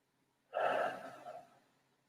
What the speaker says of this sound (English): I invite you to maybe start with a few deep breaths